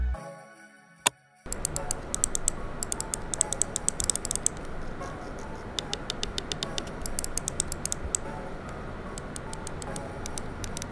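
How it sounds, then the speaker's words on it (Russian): Kailh GM8.0 switches on an Xtrfy MZ1 gaming mouse give sharp, crisp clicks. The clicks come in quick irregular bursts and single taps over faint background noise for about ten seconds after a brief quiet start. "Переключатели Kail GM80. Да, кстати,"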